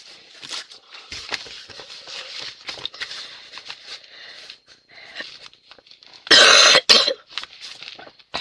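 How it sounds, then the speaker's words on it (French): Repeated dry coughs and throat clearing from one nearby person, scattered over several seconds, with a louder harsh burst of coughing near the end. "Pardon, je tousse encore"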